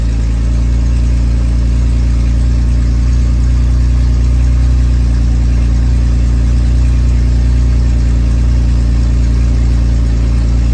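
A Pontiac Fiero engine with an EGR fault idles steadily and loudly up close, a constant low rumble with a faint whir and no voices over it.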